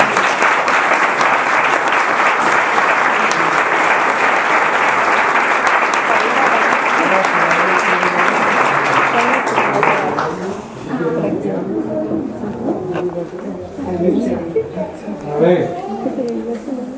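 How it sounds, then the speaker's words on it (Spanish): An audience claps together in a warm, dense burst of applause for about ten seconds, then the clapping fades and a voice begins speaking. "Un aplauso para..."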